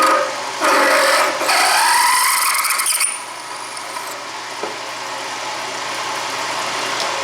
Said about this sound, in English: And now I'm ready to drill.